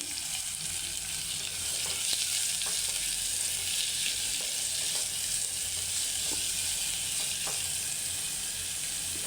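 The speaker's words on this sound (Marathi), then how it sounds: "कढीपत्ता झाला चांगला की मग कांदा घालते आणि हा कांदा चांगला आपण होऊन द्यायचा आहे मऊ" Onion sizzling and frying steadily in hot oil with curry leaves in a pan, a constant loud crackling hiss with occasional soft pops.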